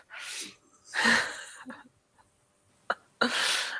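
A sudden sharp sneeze bursts out, with a second forceful sneeze following shortly after, separated by quiet breaths.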